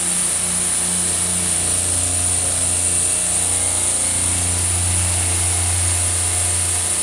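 An industrial compressor unit, BS03, runs steadily with a constant mechanical drone and hum, close and loud, no voices.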